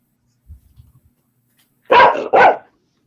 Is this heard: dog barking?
yes